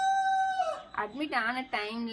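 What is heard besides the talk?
rooster crowing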